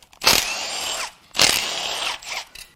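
A power tool, likely an impact gun, runs in two sharp, loud bursts of about a second each with a short pause between, while perimeter bolts come out of a Jaguar 3.0 supercharged AJ V6 engine damaged by overheating.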